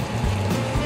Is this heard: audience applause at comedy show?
no